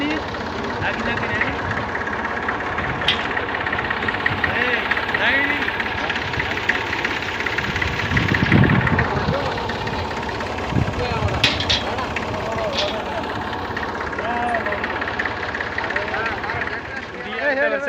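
A tractor engine idles and chugs steadily at close range during monsoon rain in a farming area, its mid-pitched throb running throughout with a voice talking over it.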